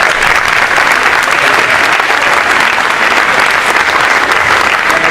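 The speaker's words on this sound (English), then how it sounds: "We love the applause here, it's very great." A large audience at a university academic convocation forum claps steadily, a dense loud wash of applause that holds evenly throughout with no pause.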